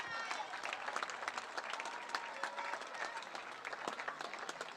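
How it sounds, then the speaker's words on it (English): A crowd at a youth baseball game applauds the Back Mountain National team, steady clapping from many hands at a moderate distance, with faint voices mixed in. "Let's give them a round of applause."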